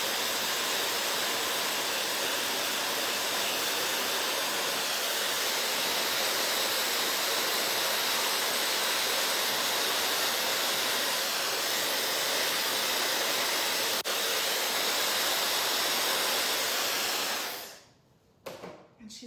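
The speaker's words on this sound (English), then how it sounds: "And we're just gonna run the hair dryer over the nail." A hair dryer blows steadily over a freshly applied nail, a loud, continuous rushing hiss held for about seventeen seconds before it cuts off abruptly.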